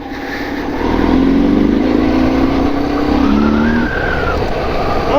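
A BMW R1100R motorcycle's 1.1-litre engine revs up loudly and accelerates, its pitch climbing steadily, heard up close with no talking.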